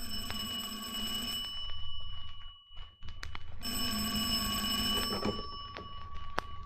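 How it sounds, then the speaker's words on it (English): An old telephone bell ringing in two long metallic bursts with a brief gap between them, loud and close, followed by a clunk as the receiver is picked up, no speech. "Pondering on it when the phone rang."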